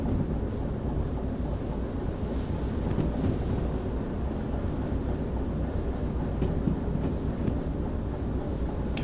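A Derail Valley train coasts steadily along the rails, giving a continuous low rumble with a faint rhythmic rail clatter. It sounds close and even throughout, with no speech.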